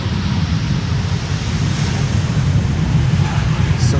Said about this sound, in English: Another E2 Embraer 195.